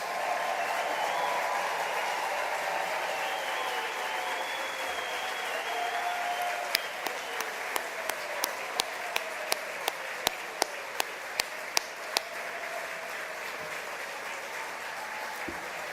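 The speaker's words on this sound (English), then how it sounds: "Let's give them a round of applause." A large crowd at an Ontario PC Party leader's event in Toronto applauds continuously, a loud sustained wash of clapping with a run of sharper individual claps standing out near the middle before settling back into steady applause.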